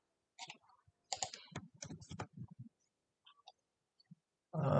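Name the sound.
typing code on a computer keyboard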